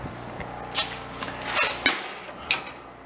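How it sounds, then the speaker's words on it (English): A charcoal kiln's grate being shaken with its tool gives a soft scraping and rasping metal rattle with a few sharper clanks, close up and fairly quiet, with no talk. "that's how you can shake your grate with the tool"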